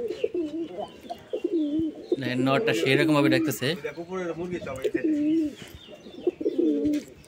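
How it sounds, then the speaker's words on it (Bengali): Domestic pigeons kept at a backyard loft beside a chicken farm coo repeatedly in deep, rolling, close calls, mixed with someone talking. "কবুতর তো অনেক সুন্দর সুন্দর রে বন্ধু"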